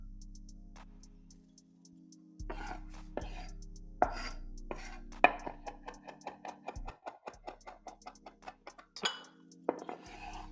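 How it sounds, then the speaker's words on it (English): Fresh parsley being chopped with a knife on a board, a run of quick, crisp taps close by, with a few clinks of dishes and cutlery in a quiet kitchen. "We're going to chop our parsley."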